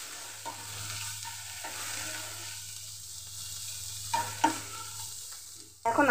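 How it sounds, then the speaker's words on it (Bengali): Giant freshwater prawn brain fries in a pan with turmeric and salt, a soft, low sizzle with a few sharp spatula clacks and scrapes toward the end. "হলুদ লবণ দিয়ে দেওয়া কমপ্লিট। এখন আরও কিছুক্ষণ ভাজা ভাজা করে নেব।"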